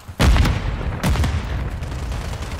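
Heavy grenade blast from a shooter video game: two loud, close booms about a second apart, each followed by a rumbling roll of debris that keeps on under the battle noise.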